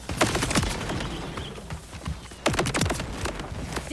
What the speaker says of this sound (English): Fireworks shield chain reaction.